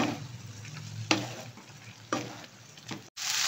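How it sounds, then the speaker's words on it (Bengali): Spiced prawns frying and being stirred in a pan, a close sizzle with sharp scraping strokes of a spatula at intervals, loud and alone with no voices. "এরপরে সব কিছু দেওয়ার পরে আমি এটাকে খুব ভালো করে নেড়ে দিই"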